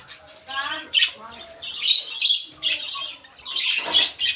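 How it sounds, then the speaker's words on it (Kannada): Lovebirds squawking in a cage among other aviary birds, sharp harsh calls repeating in bursts close by, with chirps between them. "ನೋಡಿ ಫ್ರೆಂಡ್ಸ್, ಲವ್ ಬರ್ಡ್ಸ್."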